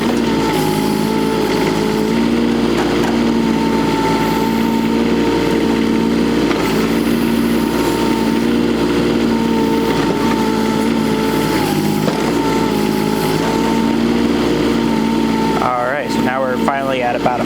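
A Kubota U10-5 mini excavator digs a footer, its small engine droning steadily up close. Hydraulic strain swells and fades as the bucket works, and a brief rattling clank comes near the end.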